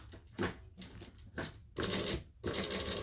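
A home sewing machine stitches forward and back-stitches along the edge of a fabric clutch, sounding as three or four short, close motor bursts separated by brief pauses, with no talking.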